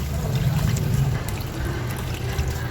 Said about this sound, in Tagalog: Maglalagay na tayo guys ng 2 tasang tubig.